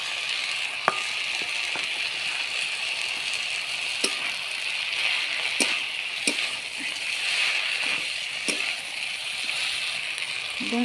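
Fried bori and fried prawns dropped into a pan of cooked greens for piring shak chorchori, giving a steady bright sizzle with occasional sharp clicks and scrapes from a spoon, and a voice speaking in the background.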